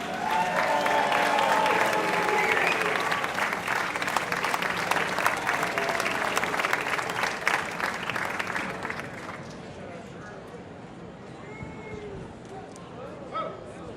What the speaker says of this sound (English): Everybody give a big round of applause to Orlando Mayor Buddy Dyer